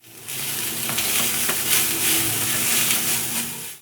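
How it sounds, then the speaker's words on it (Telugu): Veg fried rice with vegetables and coriander frying in a pan on medium flame, a loud continuous sizzle close up with spatula scrapes and stirring knocks throughout. "ఈ రైస్ని మీడియం ఫ్లేమ్లో ఫ్రై చేసుకోవాలి"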